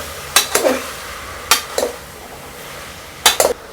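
Spoon clanking against a pot while mixing cut brinjal into idli sambar, three short bursts of scraping and knocking metal taps spaced across a quiet kitchen background.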